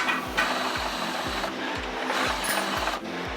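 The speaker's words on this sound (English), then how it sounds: "Now we need to countersink those a little bit." A drill countersinking holes in a wooden frame built to hold a boiler iron track system, heard as quiet, repeated short whirring-grinding bursts about twice a second, with no talking.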